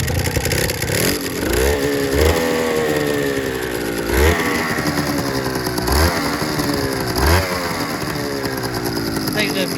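A Suzuki RGV250 two-stroke motorcycle, carburation not yet set up, revs in repeated rising blips over a rattly idle, loud and close, the buzzing engine climbing and falling several times.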